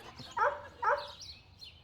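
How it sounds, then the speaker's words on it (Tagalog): A dog gives two sharp, fairly close barks about half a second apart, then a softer yip trails off over quiet background. "Aso!"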